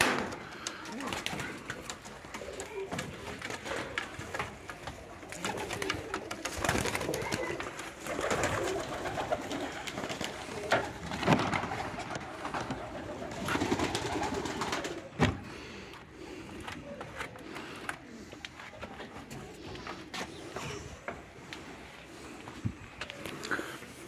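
Pigeons cooing steadily inside a pigeon loft, a dense flock of overlapping coos and rustling close by, with occasional footsteps and faint human voices mixed in throughout.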